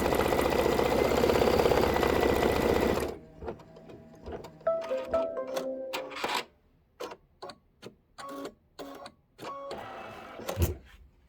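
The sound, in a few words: embroidery sewing machine stitching flowers design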